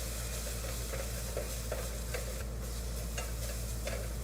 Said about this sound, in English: All right, and then just stir it all around.